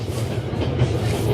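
A train rolls along steadily in the video game 11-11 Memories Retold, a continuous low rumble of wagons with no clear rail clicks, loud and close throughout.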